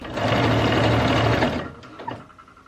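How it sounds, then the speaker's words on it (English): A sewing machine stitching dress fabric for a Victorian-inspired dress, running in a close, steady burst that stops after about a second and a half, followed by a few light clicks and handling noises. "I'm gonna keep sewing it because I did it wrong, so might as well keep going."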